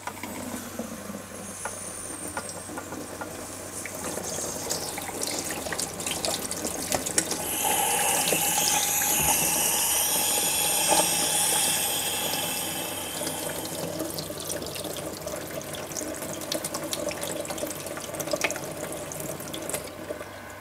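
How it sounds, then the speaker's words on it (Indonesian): Water pours steadily over a hot, still-pressurized pressure cooker at a sink, a continuous close splashing and rushing that grows louder midway, with faint hissing underneath and no talking. "Maka dinginkan pakai diguyur air ya."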